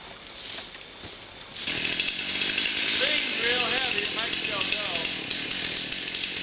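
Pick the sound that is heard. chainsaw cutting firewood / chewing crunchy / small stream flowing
chainsaw cutting firewood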